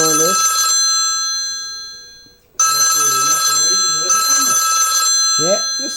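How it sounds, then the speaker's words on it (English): A mobile phone ringtone plays loudly and close, a bright repeating electronic melody that breaks off briefly and then starts again, with voices talking over it. "I knew my phone would ring"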